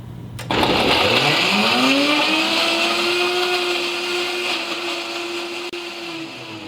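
A blender, a KitchenAid Pro Line or Vitamix 750, starts with a sudden whir and ramps up to a steady high-pitched roar while blending water, greens and cashews, loud and close throughout with no talking.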